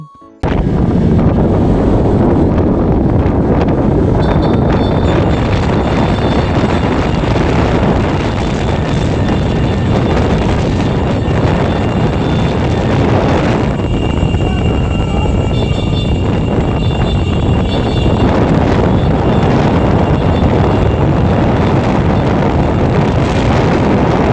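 Strong wind roars and buffets continuously, a loud, rumbling rush that stays heavy throughout with no voices.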